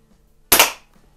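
A single sharp crack from a Crosman .22 caliber pellet pistol, either a Mark 1 or a Model 130, fired once. The report is close and loud and fades quickly into silence.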